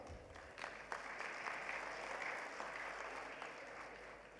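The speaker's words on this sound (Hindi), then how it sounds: "तो एक बार तालियां आप सबके नाम।" Audience applause at a university convocation ceremony attended by the Governor, a steady broad patter of many hands clapping with a few sharper individual claps standing out, continuing evenly throughout.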